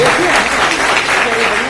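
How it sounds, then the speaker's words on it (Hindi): Enthusiastic audience applause at a motivational speech, a loud, dense burst of clapping mixed with cheering voices across the whole moment. "बार जोरदार ताली होनी चाहिए"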